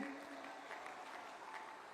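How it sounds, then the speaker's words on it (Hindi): A large political rally crowd applauds in Chittorgarh, a continuous far-off wash of clapping that stays faint and even from start to finish. "जरा जोर से ताली बजाना"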